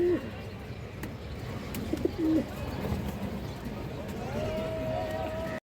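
Pigeons for sale at a bird market coo in a few short, soft calls over a busy background, with a person talking nearby.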